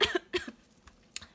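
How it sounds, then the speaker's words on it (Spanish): A few close, sharp coughs from a single person, two quick bursts followed by a fainter one after a pause. "en ese momento voy a toser de vuelta"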